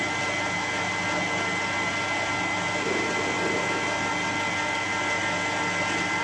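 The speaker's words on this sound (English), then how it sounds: "I'm just putting a centre drill in. Start boring it out." A steady, unbroken mechanical whirr from a centre drill boring into metal hums throughout at a constant level, with no speech.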